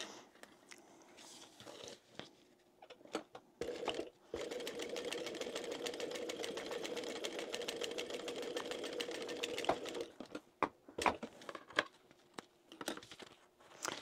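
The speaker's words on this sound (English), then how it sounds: "So now we're just going to sew down here." A sewing machine stitches a fabric zip pouch, starting with a few short bursts, then running in one long steady buzzing stretch before stopping into more brief stitch bursts and clicks, close and fairly quiet.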